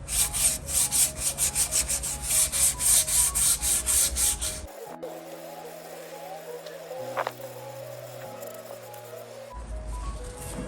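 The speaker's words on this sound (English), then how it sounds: "I'm just going to quickly go over it with a bit of 100 grit sandpaper" Hand sanding of a steel axe head with 100 grit sandpaper during restoration: rhythmic, close scratchy rubbing strokes for several seconds, then it stops and a low steady hum with faint clicks remains before a brief return of rubbing at the end.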